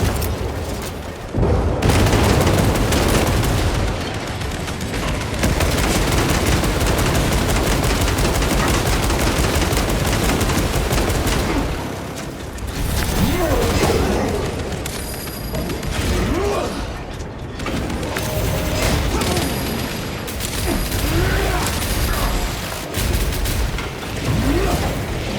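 Frag grenade blast and sustained gunfire in Warhammer 40,000: Space Marine 2 form a loud, dense wall of rapid shots, booms and mechanical clatter that runs almost continuously, with brief lulls and a game voice now and then.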